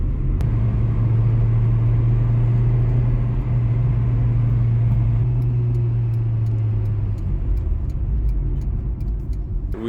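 An Acura Integra drives along the road, heard from inside the cabin as a steady, loud engine and road drone, with faint ticking toward the end.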